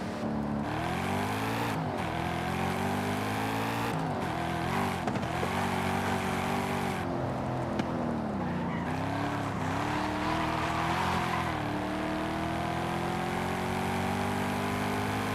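Ford 5-liter Coyote V8 engine in Forza Horizon 5 drones steadily throughout, its pitch rising and falling with repeated gear shifts and revs, alone with no talk.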